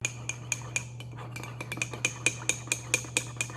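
A spoon stirring hot cocoa clinks rhythmically against the sides of a mug, quick repeated taps, close and bright over a low steady hum.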